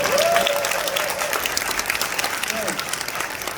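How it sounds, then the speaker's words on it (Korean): An audience at a Korean charity talk breaks into steady, dense applause that continues throughout, with a voice briefly rising over the clapping near the start and again later. "박수를 치시면 확실히 치시고"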